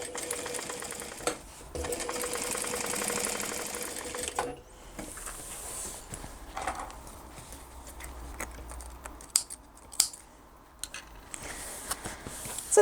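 A sewing machine stitches along either side of an opened bag seam, running steadily for several seconds, then in shorter uneven bursts with small mechanical clicks.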